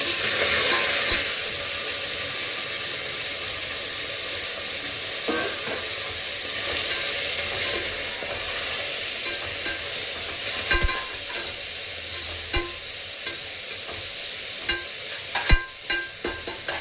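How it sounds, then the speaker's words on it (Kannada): Fenugreek leaves frying in oil in a pan for fenugreek pulao, a continuous sizzle with intermittent scraping stirs and sharp utensil taps growing more frequent toward the end. "ಇವಾಗ ಸ್ವಲ್ಪ ಅದು ಎಣ್ಣೆಯಲ್ಲಿ ಫ್ರೈ ಆಗಬೇಕು"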